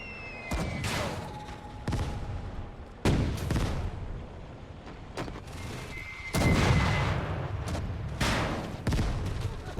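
Heavy artillery fire in the World War II game Gates of Hell, set in the 1941 German invasion of the Soviet Union, with repeated loud booming blasts and rumbling barrages, one after another, plus faint whistling tones in between.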